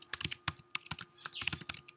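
Rapid, uneven keystrokes clatter on a computer keyboard while code is being written, each key a sharp, close click in quick bursts with short pauses between, and no one speaking.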